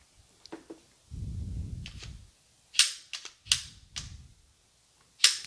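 A CZ P-10 C 2020 model pistol is handled for a safety check and its 15-round magazine is removed, producing a series of sharp, close metallic clicks and snaps with a brief rustle in between.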